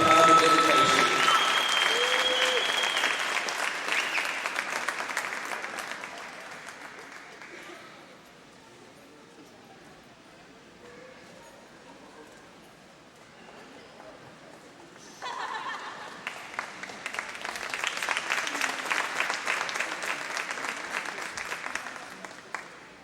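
A crowd claps loudly in an indoor space at a high school senior night basketball game, fading to a murmur of chatter before a second burst of applause rises and continues.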